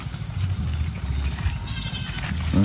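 A goat on a free-range farm bleats, with a low wavering cry repeating several times close by against steady outdoor background noise.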